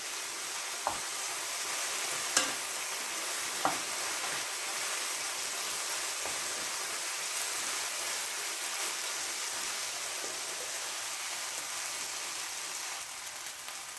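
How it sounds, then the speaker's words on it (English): Okra stirring in a pot of Louisiana seafood gumbo: a steady, loud sizzling hiss throughout, broken by a few sharp clicks of the spoon against the pot, with no one talking. "let's go ahead and stir the okra again"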